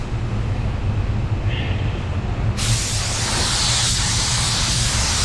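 A low mechanical hum runs throughout, then a sharp burst of hissing spray from a spray gun applying a thin, fast clear coat on a car kicks in halfway and continues steadily, close and loud.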